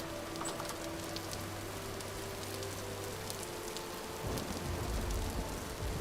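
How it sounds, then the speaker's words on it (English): Steady rain falls in the Vintage Story survival game, a dense even hiss of drops that swells slightly louder near the end, with no speech. "Why am I still hearing like the full rain noise if I'm inside?"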